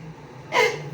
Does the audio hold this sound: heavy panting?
yes